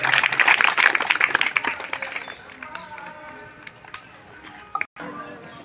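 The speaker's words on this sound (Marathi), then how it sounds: "वाजवा टाळी." An outdoor crowd watching a wrestler's circus act applauds in a dense, loud burst of clapping that fades to scattered claps and a few sharp knocks, with a voice speaking faintly underneath.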